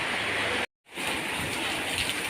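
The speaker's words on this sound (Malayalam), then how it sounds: "നല്ല മഴയാണല്ലോ" Steady heavy rain roars throughout, dense and loud, broken by a brief moment of silence before the downpour resumes.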